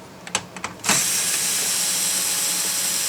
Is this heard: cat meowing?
no